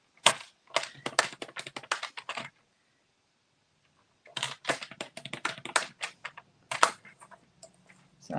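Card stock is scored for pop-up cards in two bursts of quick, crisp clicking and scratching strokes, separated by a short silent pause, all close and fairly quiet.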